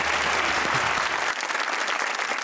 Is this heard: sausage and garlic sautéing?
no